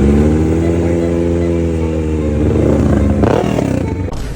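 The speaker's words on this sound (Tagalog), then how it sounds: "Kinabit ko, tambucho ng H2R. Inline 4 na makina." An inline-four superbike fitted with a Kawasaki H2R exhaust revs loudly at close range, its pitch climbing and falling before a rattly burst as the throttle drops.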